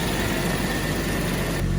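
A classic car's V12 engine idles steadily after start-up, a dense, even low rumble with constant exhaust noise throughout, close and loud with no talking.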